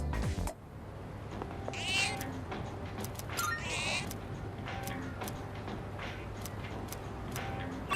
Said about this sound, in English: Let's feed the cat first.